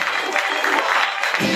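A live comedy audience applauding and cheering, a dense steady wash of clapping filling the room, loud and close throughout.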